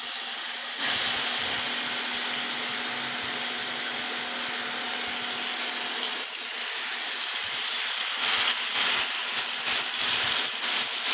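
Chicken drumsticks for tangri kabab sizzle in hot oil with a steady, loud hiss that rises suddenly and then crackles unevenly, with no talking.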